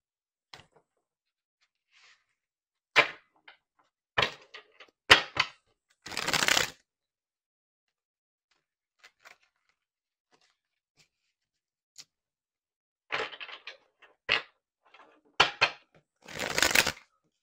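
Tarot cards are shuffled by hand in brief, crisp riffling bursts with quiet gaps between them, close and fairly soft.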